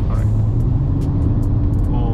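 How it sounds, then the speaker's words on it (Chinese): Inside a 2022 Honda Civic FE pulling in second gear, the engine makes a steady, deep drone with a low tonal hum. It sounds muffled and close, as heard from within the cabin. "大家可以听到这个摆二"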